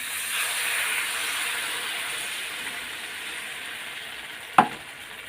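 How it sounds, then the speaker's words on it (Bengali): Water hits a frying fish-roe curry in the pan, giving a steady close sizzle and hiss that fades slightly, then a sharp, sudden crackling burst near the end. "এখন আমি জল দিয়ে দেবো জল দিয়ে দিলাম"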